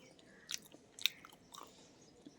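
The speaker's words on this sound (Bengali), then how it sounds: "এই ডাঁটা চচ্চড়ি খাই।" Thick drumstick stems in a mustard-style vegetable curry being chewed and bitten, with three soft, crunchy bites spaced about half a second apart, close and quiet with no talking.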